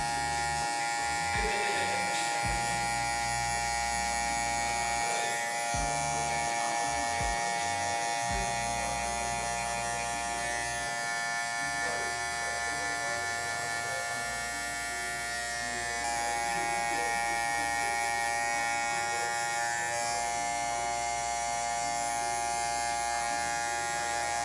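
Electric hair clippers buzz steadily while cutting a 4C hair fade, a continuous near hum with brief dips and changes in tone as the blade moves through the hair and the lever is closed.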